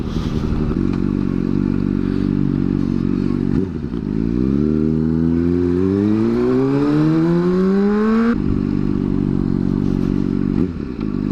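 A motorcycle engine runs loud and close, its pitch sweeping upward as it revs, then settles back to a steady idle before being switched off. No one speaks.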